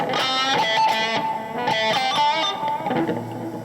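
A sustained electric guitar lead through a Zoom G2Nu multi-effects pedal rings out, each note trailing into long repeating delay echoes that blur together and fade slowly.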